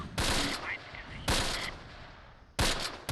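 Three sharp gunshot bursts ring out at roughly even intervals in the World War II video game Close Combat, each loud crack trailing off into a short echoing decay.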